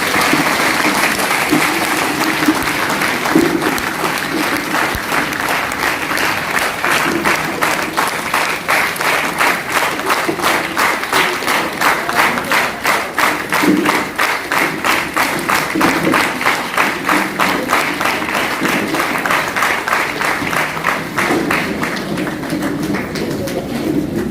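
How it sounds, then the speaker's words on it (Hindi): A seminar audience in Chhapra gives loud, sustained applause, a long run of rhythmic clapping in near unison that stays strong throughout. "मीटिंग स्टार्ट करते हैं तो एक जोरदार तालियां खुद के लिए बजाएं"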